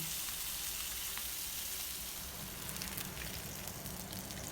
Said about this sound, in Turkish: Her bir yüzünü sadece 5 dakika pişiriyorum.